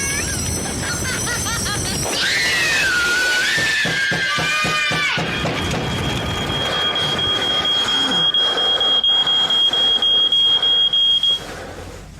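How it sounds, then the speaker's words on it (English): A loud, sustained high-pitched smoke alarm tone rings steadily for several seconds over a noisy, busy background, then cuts off. "When your smoke alarm goes off, make sure you know what to do."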